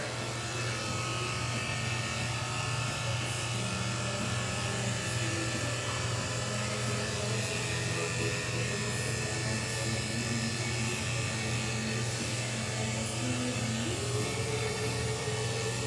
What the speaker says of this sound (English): I'll shave his tail and his bum all at once right here